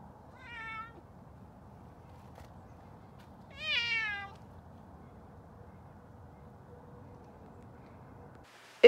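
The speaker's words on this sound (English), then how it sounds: "This is their cat" A pet cat meows twice in a quiet room, a short cry followed a few seconds later by a longer, louder one, with a brief sharp noise at the very end.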